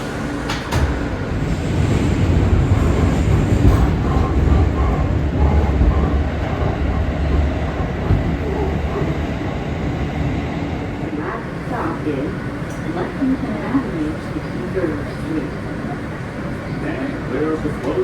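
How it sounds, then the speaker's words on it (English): A New York subway shuttle on the F line, running as an S service toward Lexington Av–63rd Street from Roosevelt Island, rumbles steadily and loudly throughout, with a constant low roar, faint rattles and clanks, and voices murmuring over the din. "This is a Lexington Av, 63rd Street bound shuttle train."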